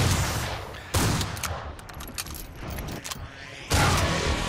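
Gunfire in Killing Floor 2 breaks out in loud, dense bursts at the start and again near the end. Between them come scattered sharp shots and metallic clinks at a lower level.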